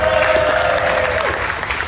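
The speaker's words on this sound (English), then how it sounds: "Round of applause for Supergirl." A convention crowd at a Superman Celebration panel bursts into loud, dense applause for an actress, with a brief voice trailing off near the start.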